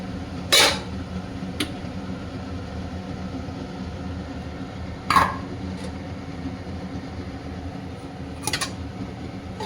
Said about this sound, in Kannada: ಈಗ ಸ್ಟ್ಯಾಂಡನ್ನು ತೆಗಿತಾ ಇದ್ದೀನಿ